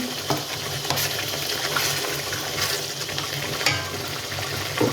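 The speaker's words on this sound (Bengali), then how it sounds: "আলু দিয়ে দিচ্ছি।" Potatoes added to a frying pan of tomatoes for a dried-fish curry give a steady, close sizzle and crackle that hisses evenly throughout, with faint stirring scrapes and no voices.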